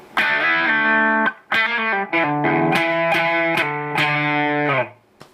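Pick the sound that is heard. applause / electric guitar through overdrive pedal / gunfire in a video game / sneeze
electric guitar through overdrive pedal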